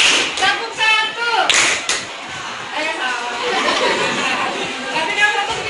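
A group in a classroom-style session claps on counted commands, giving a few sharp bursts of hand claps amid chatter, voices and light laughter.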